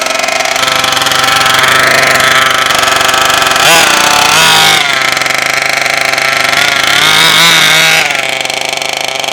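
Rebuilt HPI Baja 5T gas RC car engine running loud and close, a raspy two-stroke buzz that revs up and down in a couple of bursts with a steady idle between.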